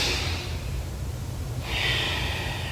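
Deep yoga breaths during a session for climbers, taken in tabletop position: a long airy exhale fades out, then a fresh breath swells up again, close and clear with no talking.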